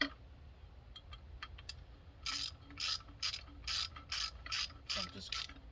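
Ratchet tightening a T50 Torx bolt on the horn mount of a Triumph Street Triple motorcycle, a few scattered clicks first, then regular bursts of fast, bright ratcheting strokes close by.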